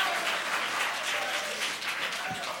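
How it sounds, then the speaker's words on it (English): A classroom audience applauds students after a presentation, a steady wash of clapping from a modest crowd, moderately distant and fading slightly toward the end. "Give them a round of applause."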